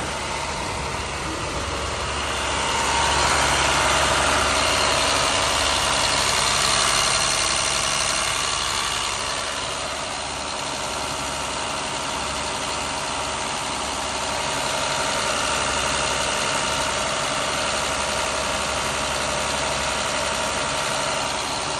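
The diesel engine of a 2009 International 4400 bucket truck idles with the oil filler cap off, a steady, close rumble that holds evenly throughout with no talking.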